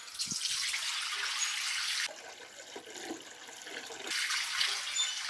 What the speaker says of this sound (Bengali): মুগিটা সিদ্ধ করবো জল দিয়ে দিচ্ছি